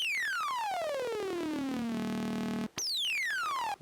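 A bright, buzzy oscillator-sync tone from a Roland SE-02 synthesizer sweeps steadily downward and holds, then cuts out and restarts high before sliding down again, harmonically rich and alone.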